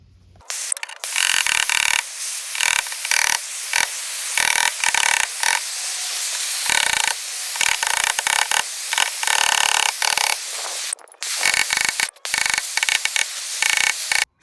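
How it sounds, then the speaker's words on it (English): A car body wing is sanded by hand with 80 grit sandpaper during a restoration, making loud, close, harsh rasping strokes in repeated bursts with brief pauses between them. "I've just lightly sanded it, well, more than lightly, with 80 grit, just to expose the low spots"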